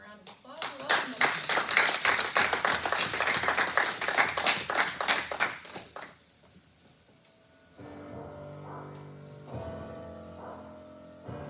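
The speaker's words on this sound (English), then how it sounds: "Let's give him a round of applause and welcome him." Audience applause welcoming a speaker to a talk for young men: loud, dense clapping for about six seconds, then fading out and giving way to a quiet tonal hum.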